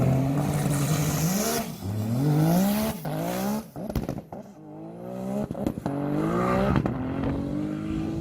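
High-speed race cars roaring down the runway at the Texas Mile, a three-day top-speed event at Victoria Regional Airport, with loud rising engine pitch sweeping through gear changes, several passes overlapping up close.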